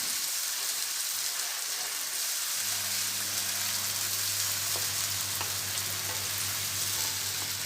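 Chicken shawarma filling with green chilies searing in a pan, a loud continuous sizzle with a low steady hum joining partway through, no voices.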